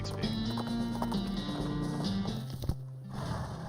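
Cart horses clip-clopping along in Red Dead Redemption, a steady run of hoof beats under a constant bed of in-game music and ambience, with a brief whinny-like sound mixed in.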